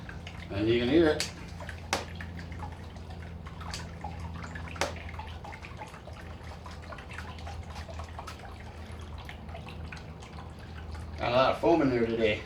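Apple juice runs from a cider press in a steady trickle with occasional drips, heard fairly quietly under someone talking at the start and end.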